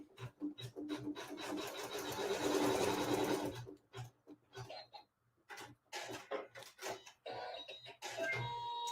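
Sewing machine stitching a seam in fabric at a workshop, a fast mechanical whirring chatter in short bursts with pauses between runs, close and moderately loud, with quiet talk in the background.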